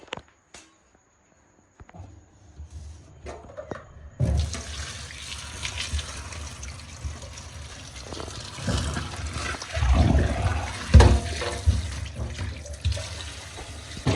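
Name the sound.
washing fruit under running water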